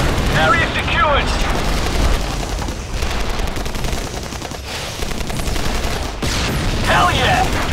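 Heavy, continuous gunfire and booming blasts in a combat video game roar loud and close for the whole stretch, with shouted voices breaking through the din.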